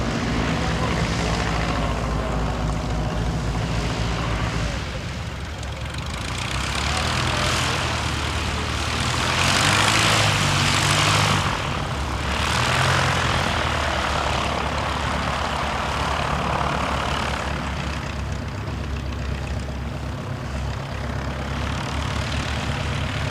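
A training aircraft's propeller engine runs for pre-flight checks, a loud, steady drone that swells in the middle and then settles, with faint background talk.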